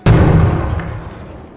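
A bomb explosion in the video game ARC Raiders booms with one sudden loud blast, then a heavy low rumble decays over about a second and a half.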